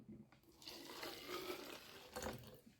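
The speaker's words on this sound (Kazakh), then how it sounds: "200 грамм ыстық су құямыз" Hot boiled water, about 200 grams, poured over nettle leaves and seven cloves in a jar: a soft splashing trickle that swells and fades, faint and close.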